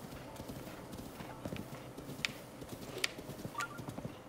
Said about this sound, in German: Wir reiten durch die Prärie.